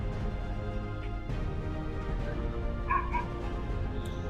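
A dog gives a few short yelps and whimpers against a steady, noisy background, the calls brief and mid-distance rather than full barks.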